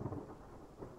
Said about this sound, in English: You hear the sounds of thunder in the distance